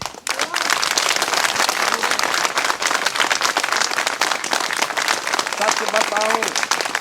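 A crowd at a rally on recruitment exams claps in a dense, steady patter for several seconds, while a voice speaks briefly at the start and again near the end.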